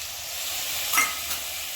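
Spice paste and a splash of water hitting hot oil in a pan for an ichar chingri (jackfruit and prawn) dish give a steady close hiss with one brief louder sizzle burst in the middle.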